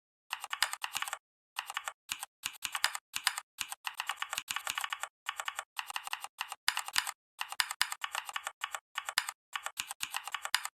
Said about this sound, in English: whenever you press a key, it'll make a satisfying keyboard sound